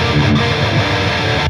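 Two dense, loud distorted rock electric guitars play together in a thick, sustained wall of sound with no pauses.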